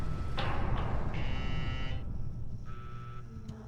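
A blast door alarm going off after its button is pressed: a steady electronic buzzing tone that sounds in two separate bursts over a low background rumble.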